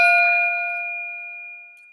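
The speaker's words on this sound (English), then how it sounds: "And the gong is from Asia. And let's see how it sounds." An Asian gong struck once during a children's lesson, giving a bright, sustained metallic ring with clear pure tones that slowly fade across two seconds, heard alone with no talking.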